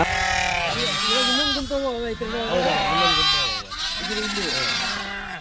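Multiple sheep bleat loudly and continuously, overlapping voices of a flock calling close by.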